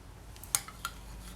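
A blade chops through polymer clay pieces on a hard surface, giving a couple of sharp, light clicks over quiet background, close and sparse with no talk.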